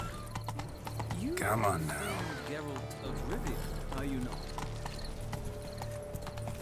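Hooves of a unicorn mount in The Witcher 3 clip-clop steadily while riding, with a whinny early on, under a continuous game music and ambience bed while people talk over it.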